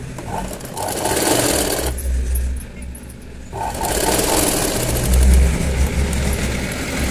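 A sewing machine stitching piping on a square neckline, loud rapid whirring bursts that start and stop, with a short pause mid-way, close to the listener.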